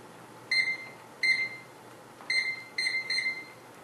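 Kitchen timer set for seven minutes while lasagna noodles boil: five short, bright electronic beeps from the button presses, close and clear over a quiet room hum.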